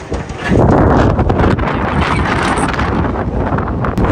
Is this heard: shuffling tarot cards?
no